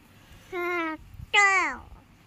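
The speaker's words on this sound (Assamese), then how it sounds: "আৰু এইফালে মেকুৰী সিহঁতে খেলা ধূলা কৰি" Cats playing indoors give two clear, close meows, the second louder and slightly longer with a falling pitch, separated by a brief pause and nothing else around them.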